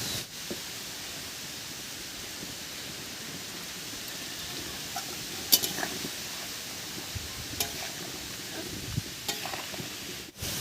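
Ground cumin and ginger paste frying in a pan for a rustic lentil dal gives a steady, soft sizzling hiss with faint stirring clicks, close and continuous, with no talk.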